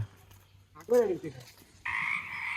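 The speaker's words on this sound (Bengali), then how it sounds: "এই যে আমাদের প্রাকৃতিক বন্ধু ব্যাং" A frog at a mini zoo gives a short, close croak, then a longer buzzing call follows in a quiet setting.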